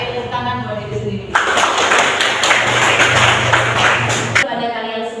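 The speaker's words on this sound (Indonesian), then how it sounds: "Oke, tepuk tangan buat diri sendiri" Classroom students applauding themselves, a dense burst of many hands clapping together for about three seconds, loud and close, with talk before and after.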